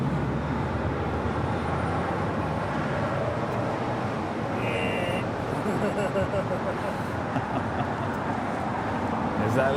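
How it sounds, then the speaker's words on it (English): A FedEx MD-11 jet taxis as it turns off the runway at LAX, giving a steady, moderate engine rumble with voices talking over it. "FedEx MD-11 making that turn off at Alpha 7"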